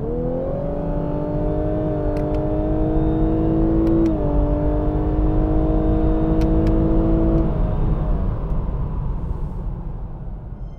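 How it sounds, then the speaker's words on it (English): A Lexus LC500h hybrid GT accelerating hard from a standstill, its engine note a steady rising drone that climbs in pitch with CVT-like smoothness, steps briefly, then holds and fades as the car settles, heard from inside the cabin. "if you accelerate off the line, it does sound a bit like CVT or an F1 car"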